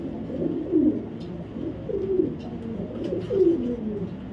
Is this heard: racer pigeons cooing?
yes